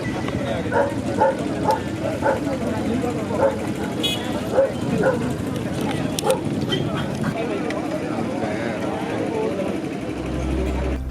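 Greyhounds barking at a race meet in Mohali, Punjab, sharp repeated barks and yips at middling distance over continuous crowd chatter and outdoor bustle, with a low rumble near the end.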